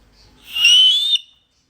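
A man gives a single clear, bright whistle that rises gently in pitch and holds for about half a second, then stops abruptly into silence.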